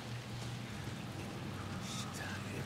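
Heavy rain in the video game Alan Wake 2 hisses as a steady, even wash, fairly faint, with a voice murmuring low beneath it.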